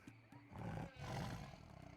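A tiger in the Lost Horizon video game gives two deep, rumbling roars in quick succession, fairly close and loud against a quiet background.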